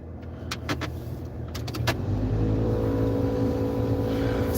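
An older push-start car's engine catches and settles into a steady, loud rumbling idle as it warms up, preceded by a few sharp clicks and thumps.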